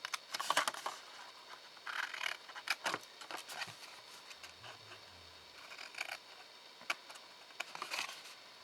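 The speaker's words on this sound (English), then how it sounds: "Now what you want to do is cut away these little tabs." Scissors snip away small tabs of card while a box shaped to hold Ferrero Rocher chocolates is being made. The cuts come as a quick series of crisp, close, fairly quiet snips with short pauses between them, and no one speaks.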